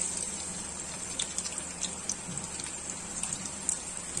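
Garlic sizzles in hot oil with cumin seeds in a kadai, a soft, steady crackling hiss with scattered faint pops, heard alone.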